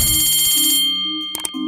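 A telephone rings in a classroom, a loud electronic ring with a steady beat for just under a second, then it stops and a few short sounds follow.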